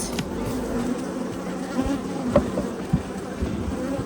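Honey bees swarm a hive frame during an inspection, making a dense, continuous buzzing close to the microphone, with a few sharper individual flybys.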